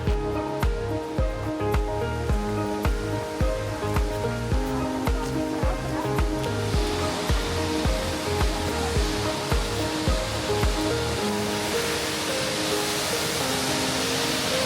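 A steady rushing roar of distant falling water at a dam fills the background, with a rhythmic pulsing sound over it that fades out partway through.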